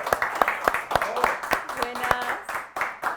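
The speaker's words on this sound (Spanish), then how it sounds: "la vamos a recibir con un fuerte aplauso" An audience claps to welcome a guest onto a talk show, sparse rhythmic claps close by, mixed with voices.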